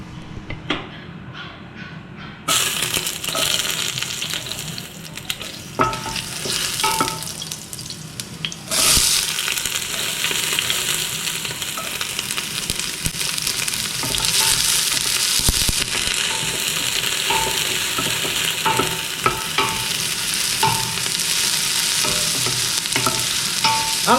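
Ingredients for beef pares are sautéed in a pan at a beachside cook, with a bright continuous sizzle and scraping stirs that grow louder after a quiet start, alongside occasional clatter and no talking.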